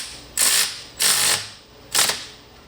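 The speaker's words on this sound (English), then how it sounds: "we're gonna tighten that bolt up." Ratchet tightening a bolt during belt work on a Kia Soul, three separate close, crisp clicking strokes spaced about a second apart, each fading quickly.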